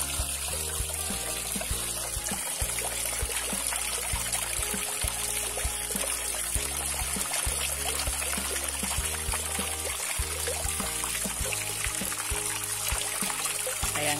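Steady gurgling and rushing water from a waterfall at night runs continuously and evenly, with a constant low hum layered beneath and no voices.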